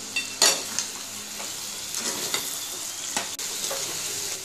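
Ker sangri sabzi, a Rajasthani dish, stirred and sizzling in oil in a pan, with steady frying hiss and a few scraping strokes of a spoon against the metal, close and fairly loud with no talk.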